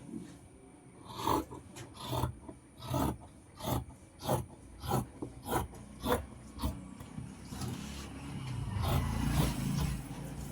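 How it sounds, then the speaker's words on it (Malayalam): Fabric for a churidar nighty sleeve is cut with scissors in a run of about a dozen rhythmic, rasping snips that close together, followed by softer rustling of cloth. "ഇനി നമുക്ക് ഇതിൽ നിന്ന് ബാക്കി കട്ട് ചെയ്യണം"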